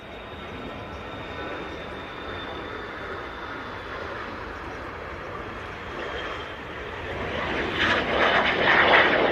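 An airliner takes off from Manchester Airport, a steady broad roar that builds toward the end as the aircraft climbs away, with faint voices nearby.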